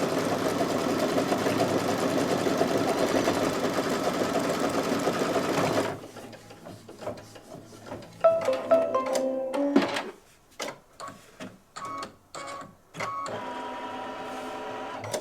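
An embroidery machine stitches appliqué fabric on a Halloween owl placemat block, running steadily and loudly for several seconds before breaking into short, irregular bursts with pauses and handling noises.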